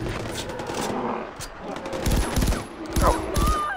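Rapid bursts of automatic gunfire aimed at rhinos in the video game Far Cry 4, with clustered shots and short pauses between them, loud and close under a mix of other game sound.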